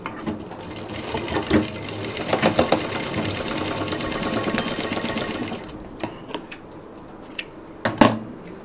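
An electric sewing machine stitches a zip onto a college bag in a long continuous whirring run, then stops, leaving a few sharp clicks and handling knocks of fabric and tools.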